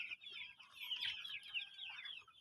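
Nineteen-day-old chicks cluck and cheep softly in a rapid, overlapping chorus, heard faintly without talk.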